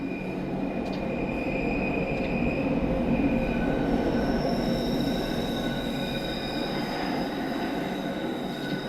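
A Bakerloo line train in Train Sim World 2 rolls over a noisy stretch of track, a loud continuous rumble with high wheel squeal, heard close and without speech.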